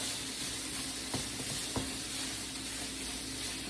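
Sweet potato hash with smoked sausage sizzles steadily in a pan, a dense, even frying hiss that carries through the whole stretch, with two brief clicks of a utensil against the pan partway through.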